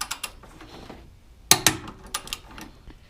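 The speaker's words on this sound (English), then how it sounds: "I have my torque wrench right here set to 40 foot-pounds of torque" A torque wrench tightens strut bar bolts on a Honda S2000, with soft ratcheting ticks, then two sharp metallic clicks in quick succession mid-way, followed by a few lighter clicks.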